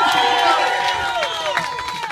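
Music festival audience cheering and applauding a guitarist during band introductions, with loud crowd whoops, shouts and clapping washing over the space, voices mixed in.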